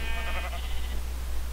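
A sheep in the Minecraft video game bleats in a short, wavering call near the start, then fades into a steady low background hum with no talking.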